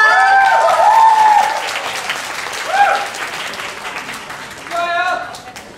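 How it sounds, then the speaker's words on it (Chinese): Applause from an audience at a church Christmas party rolls on steadily as a broad crowd wash. A raised, cheering voice rises above it near the start and again near the end. "掌声！"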